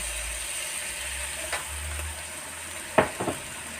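Cabbage and minced pork with oyster sauce sizzle steadily in a hot pan, with a few brief scraping clicks from the utensil near the end.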